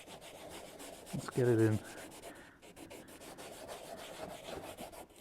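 Trim restorer rubbed onto plastic trim of a Ford XR2, a continuous rough sandpaper-like scrubbing up close, with a brief spoken phrase partway through.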